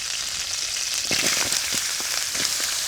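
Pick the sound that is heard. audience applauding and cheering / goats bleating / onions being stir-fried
onions being stir-fried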